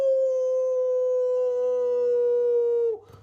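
A single sustained human voice imitates a wolf's howl, holding one long steady tone with rich overtones for nearly three seconds before cutting off, performed as part of a children's story told at a festival.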